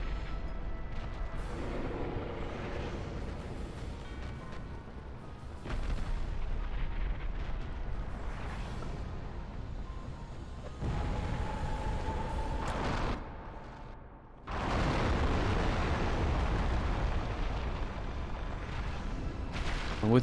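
Booming explosions and heavy blasts fill the Dark Souls fight against the Bed of Chaos, with loud rumbling bursts and crashing impacts coming in waves, one sharp surge late on, over dense continuous game noise.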